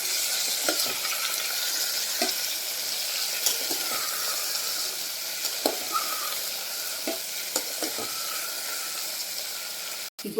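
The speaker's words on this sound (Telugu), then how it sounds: "ఇలా వంకాయ ముక్కలన్నీ యాడ్ చేసేసుకొని మిక్స్ చేసుకోండి." Brinjal pieces being mixed in a hot frying pan give off a constant hiss of sizzling oil, with soft irregular scrapes and taps of the spoon scattered throughout and no speech.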